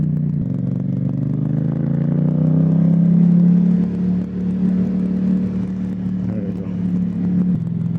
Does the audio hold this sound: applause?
no